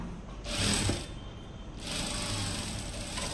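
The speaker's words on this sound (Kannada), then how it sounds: "ಜಸ್ಟ್ ಇದು ಡಬಲ್ ಫೋಲ್ಡ್ ಮಾಡಿ ಇದನ್ನು ಹೊಲಿತಾ ಇರೋದು" A sewing machine stitches along a double-folded lehenga edge, with two short bursts of steady whirring separated by a brief pause. The second burst runs longer and carries to the end. The sound is close but fairly quiet.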